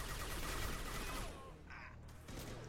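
Shooting at people in a video game: a dense, rumbling volley of gunfire, fairly faint and distant, that tapers after about a second into quieter scattered shots and a few clinks.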